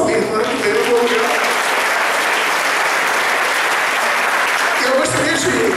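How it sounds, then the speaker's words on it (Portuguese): A crowd at a drag festival breaks into sustained, dense applause that holds loud and steady for several seconds, with voices mixed in toward the end. "Eu gostaria de um aplauso à minha irmã que veio no meu lugar."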